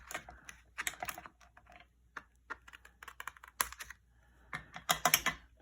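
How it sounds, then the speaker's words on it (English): Scissors trim a small piece off while crafting, giving a series of sharp, crisp snips in irregular bursts, close by and fairly loud, with no one speaking. "I'll take some scissors and trim this little piece off"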